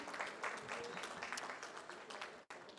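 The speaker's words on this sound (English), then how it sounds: "So one more round of applause for them" Applause for shortlisted startups at the Leap Ahead Startup Summit inauguration in Delhi, a faint, steady round of clapping from a hall audience, with a brief cut near the end.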